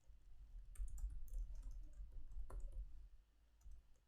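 Typing on a computer keyboard, a run of quick, close clicking keystrokes in irregular bursts with short pauses, ending in a few scattered taps.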